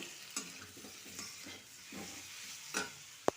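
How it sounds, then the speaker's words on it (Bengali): Onions and potatoes fry together in a pan, giving a soft, low sizzle broken by a few scraping stirs and a sharp metallic clink at the very end. "পেঁয়াজ আর আলু আমি একবারে ভেজে নিচ্ছি"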